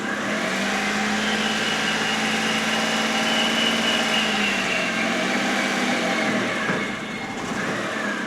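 A car engine runs steadily and rises in revs above about 1000 RPM as the clutch pedal is released and the vehicle begins to move, with a sustained loud hum throughout and a slight dip near the end.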